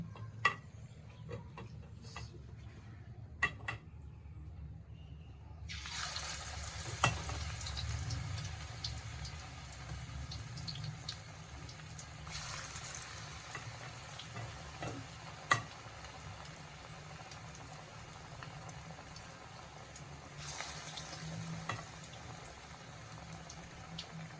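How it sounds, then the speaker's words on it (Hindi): Pakoras frying in oil over low heat, a faint soft sizzle with small bubbling crackles and a few sharp ticks, swelling into brighter hissing bursts at intervals. "थोड़ी देर इनको फ्राई होने देते हैं।"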